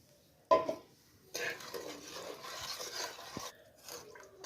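A spoon scraping and stirring a ground almond and milk mixture in a pot off the heat, a sharp clink at the start followed by a steady rasping swirl that stops, then fainter scraping.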